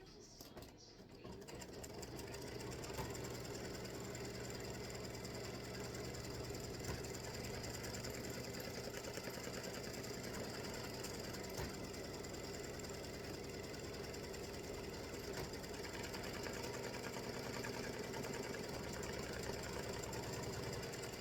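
Stitching a tic tac toe grid for a baseball game set, an embroidery machine runs at a constant close, busy whir with fast rhythmic needle knocking. It starts softer and settles into a steady level after a couple of seconds.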